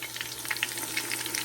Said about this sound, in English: we're just frying along. Just frying along.